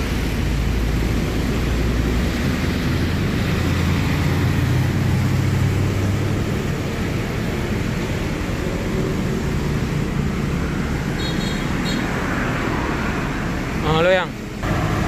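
Continuous road rumble and engine drone of a bus moving along the Banda Aceh–Medan road, with a brief dip and squeal near the end.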